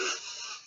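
A single sharp sneeze bursts out close by and trails off into a breathy fade in under a second.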